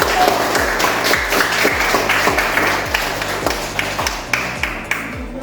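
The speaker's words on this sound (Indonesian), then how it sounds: "Mari kita semua memberikan tepuk tangan untuk kelompok 1." Scattered hand claps from a classroom of students cheering a group of classmates, a steady patter of claps with sharp individual smacks, fading slightly toward the end.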